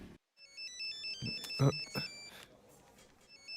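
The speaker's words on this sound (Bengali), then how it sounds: "এই বাহাব, পল্লবীর ফোন।" A phone ringtone plays a repeating electronic melody, with a few brief knocks and handling sounds partway through.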